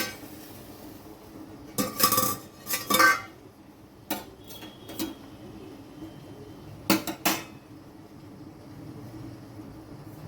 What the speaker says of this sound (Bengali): আবার খুলে আমি ঢাকনাটা দেখে নিচ্ছি।